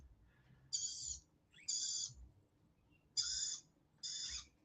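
Pet birds squabbling over food give four short, shrill, squawking call bursts in an irregular rhythm, fairly loud against a quiet, faintly humming room with no talking.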